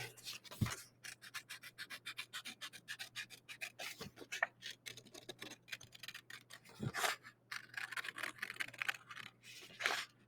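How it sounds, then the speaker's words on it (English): Scissors snip a paper circle cut out as a tracer for an animal head drawing, a close, quiet series of rapid crisp cuts and rustles with a few louder paper handling knocks. "we have to get a scissors and cut out"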